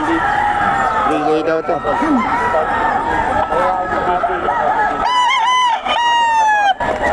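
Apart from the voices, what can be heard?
roosters crowing and clucking at a fowl sale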